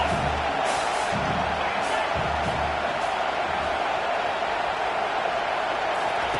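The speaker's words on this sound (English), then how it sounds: "Here comes this home crowd as the defense tries to get off the field on 3rd down." A home crowd roars steadily at a college football game as the defense tries to get off the field on third down, a dense sustained wall of cheering with some low thumps beneath.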